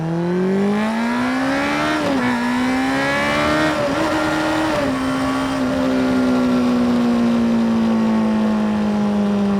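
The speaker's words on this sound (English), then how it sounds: "let's get some acceleration" Honda CBR600RR sport motorcycle engine revving up through the gears with strong rising whine, brief dips at shifts, then steady high-rpm drone, loud and close over wind noise.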